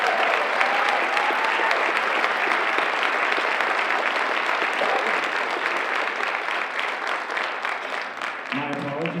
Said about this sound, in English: Can you guys give a round of applause for our fine euphonium player and professor of geology,